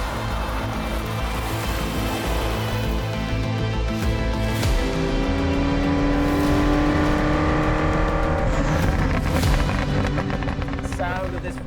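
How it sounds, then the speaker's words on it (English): A Ferrari F40 V8 revs hard and close, a loud continuous crisp roar with rising and falling pitch through several throttle blips, with a voice briefly audible over it. "The sound of this Ferrari is just mega. For a V8, it's got a really crisp"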